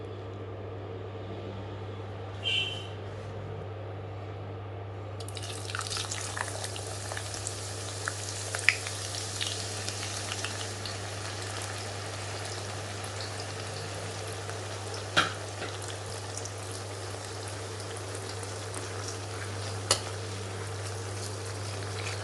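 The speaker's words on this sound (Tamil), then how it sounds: "இதை நல்ல பொன்முறுவலாக பொரிச்சுக்கணும்." Four thinly sliced onions frying steadily toward golden brown for a chicken zurbian biryani, a constant soft sizzle with occasional louder crackles and pops, heard alone with a low steady hum beneath.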